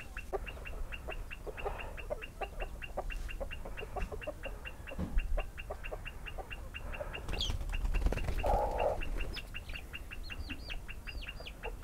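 Backyard hen with her chicks on freshly cut grass: rapid, continuous high peeping from the chicks with a few soft clucks and a brief wing flutter, over a low outdoor background hum.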